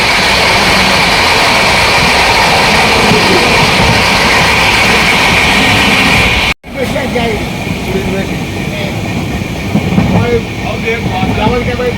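A passenger train rolls along the rails on a foggy morning on the way to Prayagraj, with a steady, dense rumble of carriage noise throughout, a brief drop midway, and voices faintly present.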